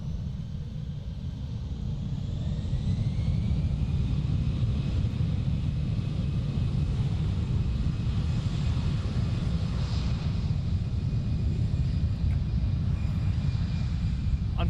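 Airliner engines spooling up before a takeoff to Berlin at Amsterdam Schiphol, a steady, deep rumble with a rising whine that holds loud and constant throughout, no voices.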